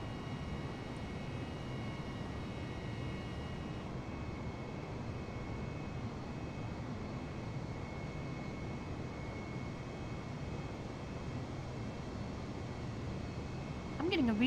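Steady airliner engine drone heard from inside the cabin during the climb after takeoff in Microsoft Flight Simulator 2020, a constant even roar with a faint tonal whine, unbroken throughout.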